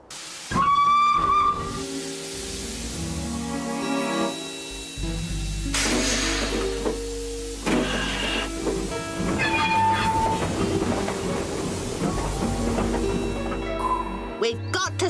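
A cartoon steam train approaches with a loud, clear whistle blast, then hissing steam and chuffing with more whistle toots, all set against animated scoring and sound effects.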